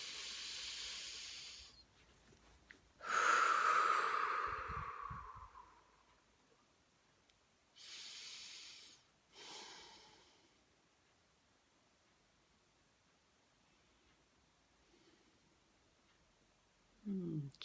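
Deep breathing during an EFT tapping exercise: a long, close, airy inhale and exhale, followed by two shorter breaths, with quiet stretches between.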